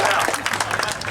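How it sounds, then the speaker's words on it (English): Audience applause for a staff member at a music program gathering, brief, dense clapping from a crowd with some voices mixed in underneath. "give him a round of applause."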